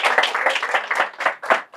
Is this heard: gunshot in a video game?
no